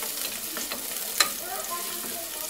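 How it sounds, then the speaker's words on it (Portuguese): Garlic sizzles steadily in a hot pan, a close, even hiss with one sharp tick of a stir partway through. "Primeiro eu coloco o alho, uma refogadazinha."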